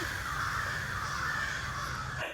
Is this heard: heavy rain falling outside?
no